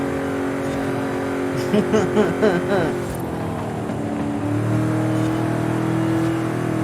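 A 1970 Chevrolet Chevelle SS 454 in a racing video game, its V8 exhaust droning loud and close, with a quick burst of rising revs through gear changes before settling into a steady rumble.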